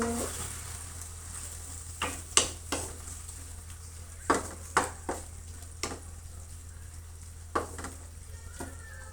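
A simple meat dish sizzles and fries in a pan, a steady close crackle broken by several sharp scrapes and clinks of a utensil stirring against the metal.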